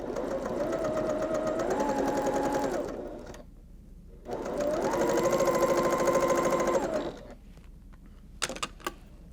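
A sewing machine chain-pieces quilt fabric in two steady runs of rapid stitching with a short pause between, followed by a few faint clicks, close and alone.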